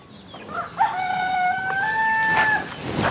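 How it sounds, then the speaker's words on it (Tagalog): A native rooster crows loudly and close by, a long drawn-out call with a rising start, while other birds murmur faintly in the background. "Ngayon punta naman tayo dun sa mga adult natin na manok."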